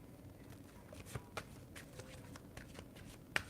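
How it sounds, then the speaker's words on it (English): Playing cards being shuffled by hand during a card reading, a soft, steady papery riffle and patter with a few light taps, faint and close, with no talking. "Is it weird that I just like shuffling the cards?"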